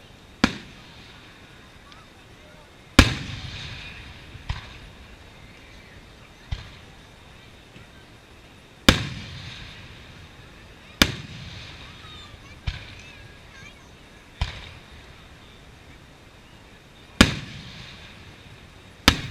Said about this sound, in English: the annual East Long Meadow fireworks display brightened the sky over a crowd of cheerful spectators